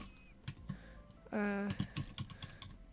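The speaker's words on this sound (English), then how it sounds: "I'm getting a bit quicker at typing because I've been doing some touch typing tests" Someone typing on a computer keyboard during a casual livestream, a quick scatter of close, soft key clicks at an uneven pace, with a short tonal sound partway through.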